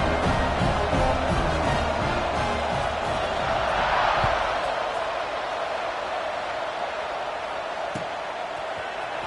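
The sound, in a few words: crowd buzzing at a football game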